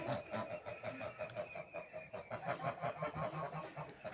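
Wyandotte hens and other chickens in a backyard poultry pen, clucking softly and repeatedly in a rhythmic, fairly faint chatter with no clear speech over it.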